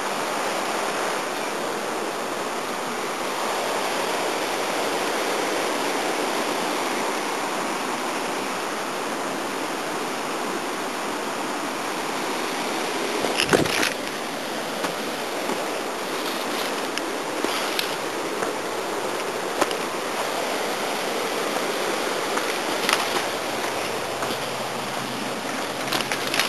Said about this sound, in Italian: Addirittura il fiume si è diviso, scorre anche all'interno adesso.